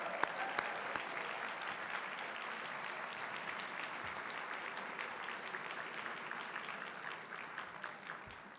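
Applause from gala dinner guests for standing board members at a judicial excellence event in Colorado, a sustained, fairly distant patter of many hands with a few sharper claps, steady and unbroken.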